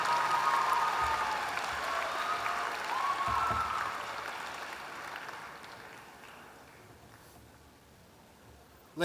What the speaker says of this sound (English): One more round of applause for the 2024 graduates of the Master of Science in Accounting program.